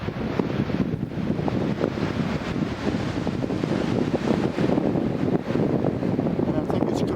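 Wind and waves buffet a small fishing boat at sea on a day with a strong tide, a steady broadband rush with choppy splashes and microphone wind noise throughout, loud and close.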